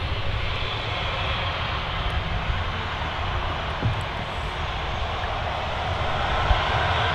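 A Boeing 787 Dreamliner at Manchester Airport produces a steady, moderately distant engine rumble with an even hiss, continuous throughout and heard alone.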